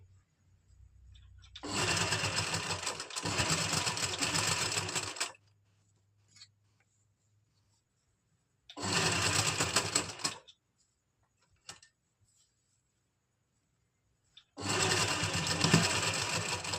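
Sewing machine stitching through the lining of a party-wear suit in three loud bursts of rapid, steady mechanical whirring, separated by quiet pauses with faint handling clicks.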